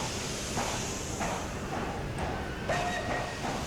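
A train whistle sounds in the Transport Fever railway game, a few faint tonal toots rising over a dense hissing rumble of rail noise.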